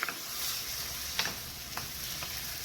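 Zucchini with diced tomatoes cooking over high heat in a pan, giving a faint, steady sizzle with a few soft scraping stirs.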